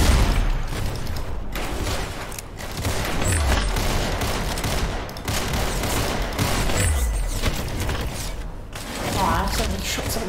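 Rapid gunfire in the Roblox game Arsenal: repeated bursts of shots with clicking, ratcheting weapon mechanics, steady and loud for the whole stretch.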